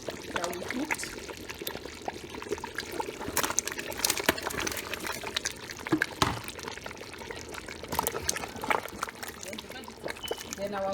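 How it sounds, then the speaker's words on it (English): Cooked meat tipped into a pot of thick Nigerian egusi soup with bitterleaf, giving a steady wet, pouring and sloshing texture with scattered soft clatters throughout. "So I'm going to add the meat that we cooked."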